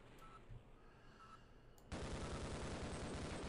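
Gunfire rings out in the video game Half-Life: a quiet stretch, then a sudden loud burst of rapid, repeated shots that continues without pause to the end.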